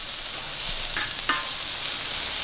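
Steady sizzling of chopped onion frying in butter on a steel disc, with a couple of soft scraping stirs partway through.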